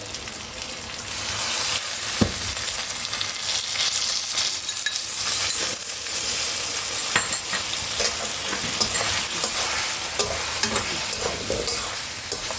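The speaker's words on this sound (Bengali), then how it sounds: "আমি ভালো করে ভাজবো মশলাটাকে যতক্ষণ না তেল বেরোচ্ছে" Spice paste thinned with a splash of water frying in oil in a pan for an egg curry with potato and onion: a steady, close hiss and sizzle with occasional stirring scrapes and clinks, no talking.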